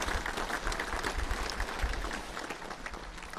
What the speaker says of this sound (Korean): 박수 한번 크게 쳐주세요. 감사의 박수.